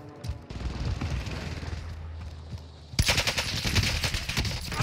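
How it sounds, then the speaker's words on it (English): Rapid automatic gunfire rattles through a Call of Duty: Warzone match, a steady burst of shots that grows louder and denser midway, with no talking over it. "Shots."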